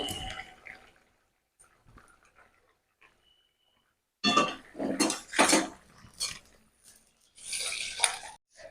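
Fish curry being transferred from a kadai into another pot, with metal spoon scrapes and clanks against cookware in loud bursts after a quiet stretch, close by, no talking.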